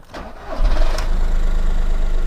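A cold diesel car engine cranks briefly then catches and settles into a rough, steady idle, close and fairly loud, with a low rumbling clatter.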